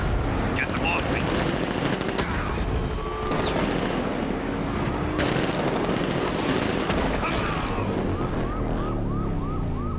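Rapid automatic gunfire crackles through a chaotic action scene in Batman: Arkham Knight, dense and continuous alongside wailing sirens, engine noise and shouted voices.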